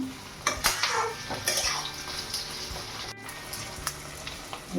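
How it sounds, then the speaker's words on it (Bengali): Onion and capsicum frying in a pan for chilli chicken, with a spoon scraping and clinking against the metal as the vegetables are stirred, over a soft sizzle, no voices. "একটু নাড়াচাড়া করে নিই।"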